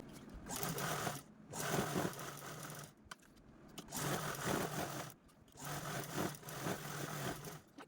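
A sewing machine stitches along three sides of a small leftover blouse fabric piece, running in several rapid bursts separated by short pauses, close and clear with no voices.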